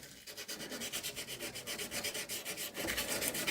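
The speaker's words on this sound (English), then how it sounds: "You can go up and down the fretboard with this sandpaper if you're very gentle with it." Sandpaper rubbing back and forth along the fretboard of a 1991 Takamine TD 32 acoustic guitar, a gentle, steady rhythmic scratching of even strokes with no talk.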